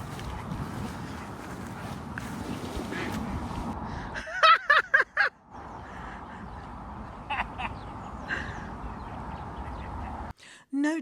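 A few ducks at St Neots let out a burst of loud quacks, a short cluster of calls near the middle, over soft outdoor background noise.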